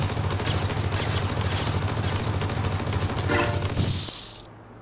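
Rapid, continuous gunfire in the video game TerraTech rattles loudly for several seconds, then cuts off abruptly.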